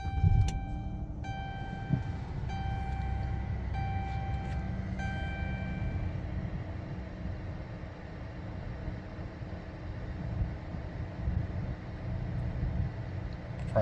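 A car's 3.6 Pentastar engine idles after being restarted, giving a steady, close, low rumble with no talk.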